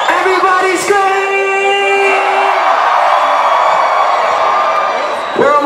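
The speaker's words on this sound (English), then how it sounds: "Everybody scream!" A nightclub crowd screams and cheers loudly and continuously, a dense sustained roar with whoops rising above it, close and filling the space for several seconds.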